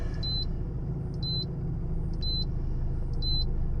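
A Mitsubishi Galant VR4 idles with a low steady rumble in a driveway, parking brake set, while a turbo timer counts down with four short, evenly spaced electronic beeps about a second apart.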